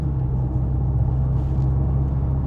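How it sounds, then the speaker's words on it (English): A tuned Volkswagen Golf R, a 10-second quarter-mile car, drives a race track with a steady, low engine drone and a constant rumble, heard from inside the car with no talking. "We want to see what this car is capable of in a road that has straights and corners."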